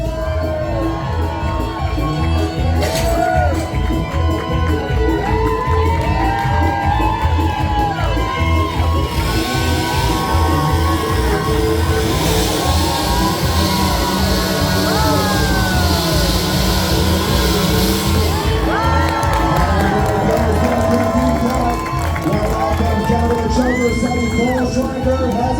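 A crowd at an Alaska lumberjack show cheers and shouts continuously for competitors, with whoops and children's voices rising and falling, and an announcer speaking over the noise.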